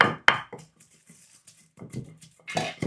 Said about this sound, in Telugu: ఇలా దంచుకుంటే మీకు రోల్ ఉంటే దంచుకోండి, లేకపోతే మిక్సీలో వేసుకునే ఓకే